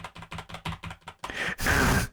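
Quick, rhythmic clicking of a clicky keyboard being typed on, a run of about eight close taps, followed by a louder rushing burst of noise at the end.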